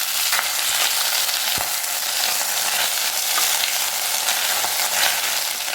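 Thuthuvalai leaves sauté in a little oil in a pan, giving a dense, steady, close sizzle and crackle with occasional faint stirring taps, no voices.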